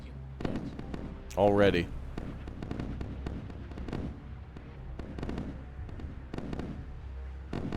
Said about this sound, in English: Wow, that's a hell of a lot of missiles.